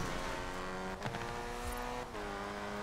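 Engine of a Morris car in the Forza Horizon 4 racing game, fitted with a roll cage and driven off-road, drones steadily and loud with a couple of brief shifts in pitch, no talk over it.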